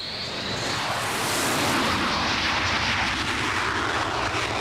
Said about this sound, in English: The tower clears number 3 for takeoff.